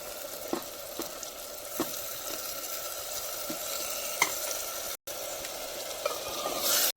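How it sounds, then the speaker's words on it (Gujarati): Chopped tomatoes, with turmeric and coarse salt, sizzle steadily in a pan while Maggi noodles are being cooked. The frying hiss is close and continuous, broken by occasional spoon clicks and one brief cut. "હવે આપણે નાખી દઈશું ટમેટા."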